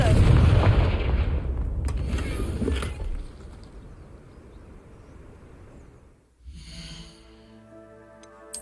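Blast of the Confringo fire spell in Hogwarts Legacy, a loud broadband boom up front that rumbles and decays over about three seconds, followed by quieter game ambience and a brief tonal chime near the end.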